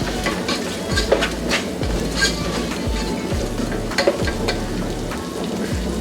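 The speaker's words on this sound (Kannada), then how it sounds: "ಉಪ್ಪು ಹಾಕ್ಕೊಂಡು ಒಳ್ಳೆಯದು ಆಗೋ ತನಕ ಇದನ್ನು ಫ್ರೈ ಮಾಡ್ಕೊಳ್ಳೋಣ" Onions fry with salt in a pan for a black-eyed bean palya, with a constant sizzle cut by regular scraping and stirring strokes roughly every second, close and moderately loud with no talking.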